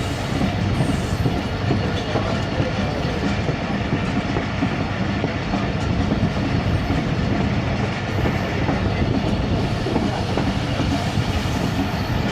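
The Ghouri Express 113UP passenger train runs on the rails between Faisalabad and Lahore, with a steady loud rumble and rhythmic clickety-clack of the wheels heard from on board.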